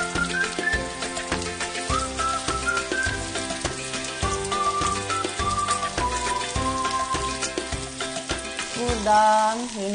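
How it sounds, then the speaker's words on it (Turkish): Onion and quince sautéing in a pan for quince-stuffed celery, a steady close sizzle and crackle of frying under clattering, busy sound with repeated stirring knocks throughout. "Ayva ile beraber soğanı kavururuz ki ayvanın da bir aroması soğanla beraber işlesin diye."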